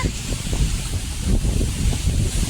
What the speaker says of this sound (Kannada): ಫುಲ್ ಗಾಳಿ, ಫುಲ್ ಮಳೆ.